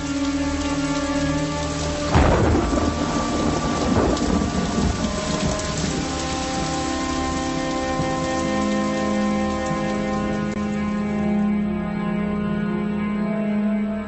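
Heavy rain pours steadily on surfaces while a loud thunderclap cracks about two seconds in and rumbles on before fading, all under a low music bed.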